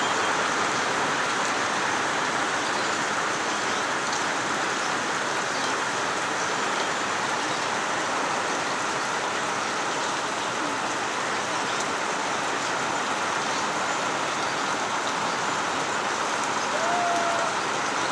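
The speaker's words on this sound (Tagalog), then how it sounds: "Ulan na hapon." Afternoon rain falls in a dense, unbroken hiss and patter, constant and fairly loud, with no other sounds standing out.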